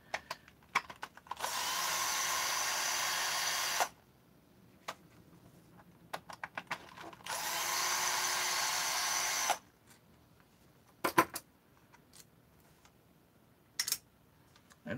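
Chassis screws being removed while dismantling a 200t, heard as two sustained whirring bursts of a power screwdriver, each a few seconds long, with scattered clicks and taps of handling between them in a quiet room.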